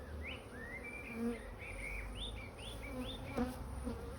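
A strong honeybee colony buzzes steadily throughout, a dense close hum with darting higher whines from individual bees passing near during an open hive inspection, heard alone without talk.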